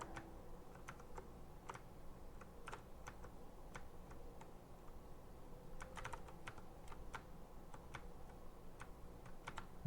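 Rapid, uneven clatter of a computer keyboard being typed on while Hollow Knight plays, near and fairly quiet, with clustered keystrokes and short pauses over a constant low game background.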